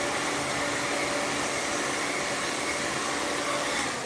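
A handheld hair blow dryer runs steadily through a salon blowout, a loud continuous broadband whoosh with a faint motor whine, unbroken and close, with no talking over it.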